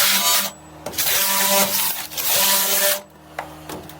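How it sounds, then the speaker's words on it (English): Excess foam being cut off during a truck camper build, with rough rasping strokes in bursts separated by short pauses, close and fairly loud, no talk. "cut off the excess foam so I can"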